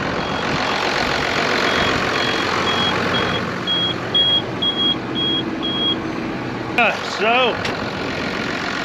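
Tractor engine running steadily while planting a field with a planter, a continuous loud mechanical drone throughout, with a brief voice and a few warbling beeps near the end.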